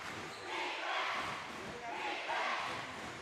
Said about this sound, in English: Defensive chant here. The crowd getting into it here.